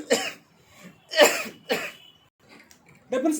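Several sharp coughs in separate bursts, close and fairly loud, with short quiet gaps between them.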